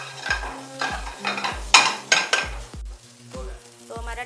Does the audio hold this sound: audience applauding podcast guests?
no